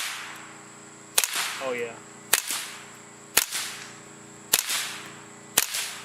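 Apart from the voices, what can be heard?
supersonic crack of suppressed 22LR Federal Auto Match rifle shots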